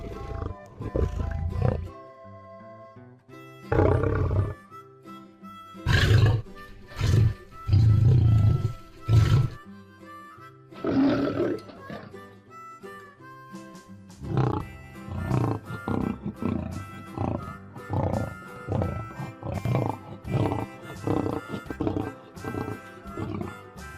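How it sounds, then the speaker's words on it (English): A lion roars in several deep, heavy bursts, loud and close, followed by a long series of rhythmic grunting roars that gradually shorten. "Lion."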